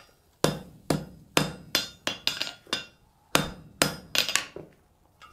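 Rapid hammer blows strike hot steel pieces on an anvil during a jump forge weld, a dozen sharp ringing impacts in quick, slightly uneven rhythm, close and loud.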